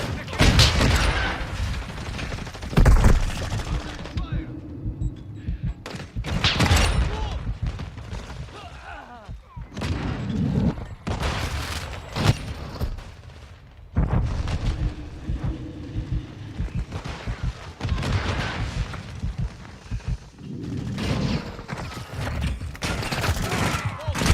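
Gunfire in Call of Duty Modern Warfare II comes in repeated loud bursts and booms separated by quieter gaps, with a voice talking over the game action.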